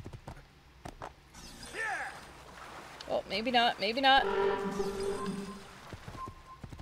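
Horse hooves clip-clop at a steady gait in Assassin's Creed II, close and moderately loud, with someone talking over the gallop.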